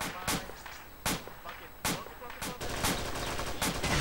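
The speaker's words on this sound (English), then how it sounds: "Sprooge, back blast clear, fire as soon as possible." Gunfire in a military video game, a series of sharp loud shots at irregular intervals, roughly five or six bursts over a few seconds against a noisy background.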